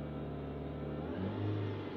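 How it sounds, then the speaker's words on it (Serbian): A car engine, read through an ELM OBD II scanner, idles steadily and then revs up as the rpm rises, giving a louder, higher hum partway through. The sound is close and continuous, with no talking. "kad povećavam broj obrtaja motora, čujete i sami"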